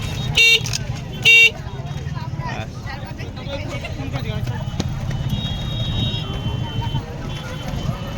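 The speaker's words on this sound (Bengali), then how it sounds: "হর্নটা মেরে দাও এই হর্নটা মেরে হ্যাঁ" A scooter horn on a crowded street at Canning bridge gives two short, loud honks near the start, over a steady bed of crowd and traffic noise with people talking.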